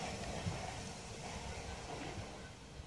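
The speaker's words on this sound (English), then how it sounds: "And now departing is the 2 465s on the front and 466031" Southeastern Class 465 and 466 electric multiple units departing a station together, a steady distant rumble and hiss of the train pulling away at moderate level, with no voices.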